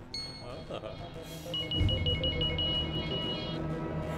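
A telephone rings repeatedly with a steady electronic trill as a call goes out, heard over a low background hum and dramatic film ambience.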